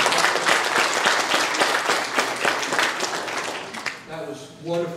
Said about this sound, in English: let's give the Lord a hand clap for the poor.